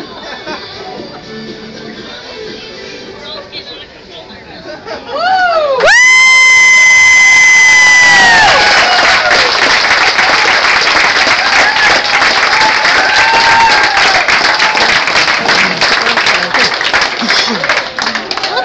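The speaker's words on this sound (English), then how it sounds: "And the crowd goes crazy." A large crowd cheers and applauds loudly and continuously, with shouts and whistles rising in over a musical sound effect and sustaining until the end.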